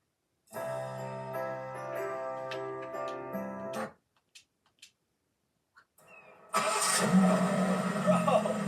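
A BMW G87 M2 fitted with an aftermarket twin-disc clutch starts and idles, a steady mid-pitched engine hum that cuts out, followed by a few faint clicks and then a louder, rougher idle returning, heard from outside the car.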